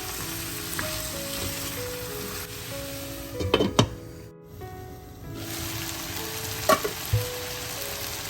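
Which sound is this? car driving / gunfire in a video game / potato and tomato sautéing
potato and tomato sautéing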